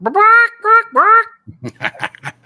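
A human voice imitates random chicken sounds: three loud, rising squawks, then a run of quieter clucks and breathy chatter.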